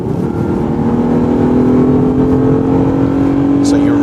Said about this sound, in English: when you accelerate in a more aggressive fashion, you'll hear the engine sound coming into the cockpit area